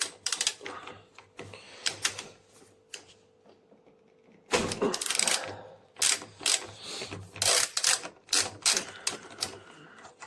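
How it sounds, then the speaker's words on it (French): Socket wrench with a 19 mm socket working a nut loose at the top of the arm on a Dualtron Eagle electric scooter, giving bursts of close, loud ratcheting clicks and metal clatter separated by short pauses. "on va retirer l'écrou en haut du bras avec la clé à douille de 19"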